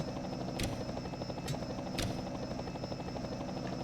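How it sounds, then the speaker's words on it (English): A helicopter drones overhead during a NASCAR Racing 2003 sim race replay, a steady rhythmic rotor buzz heard throughout at moderate loudness, broken by a few short sharp clicks. "That helicopter sound is annoying."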